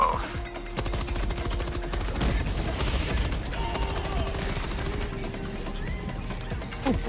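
Sustained machine gun fire in Helldivers 2 against Illuminate enemies, rapid continuous bursts of shots with explosions and battle effects mixed in, loud and close throughout.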